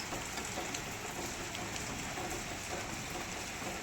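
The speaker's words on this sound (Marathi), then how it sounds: "दोन दिवस झाले पाऊस आहे ना कंटिन्यू चालू आहे" Steady rain falls throughout in Pune, a dense, even hiss of drops on surfaces with no voices and no breaks.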